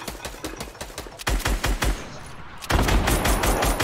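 Rapid bursts of automatic gunfire in the Fortnite video game, loud repeated volleys with brief pauses between, then a denser stretch of shooting, no talk over it.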